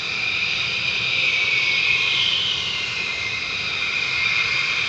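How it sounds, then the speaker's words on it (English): F-35 fighter jet taxiing at RAF Lakenheath, a steady loud whining engine roar with a strong high hiss, sustained and unbroken as it moves out from behind buildings. "F-35's coming out back of the bike sheds"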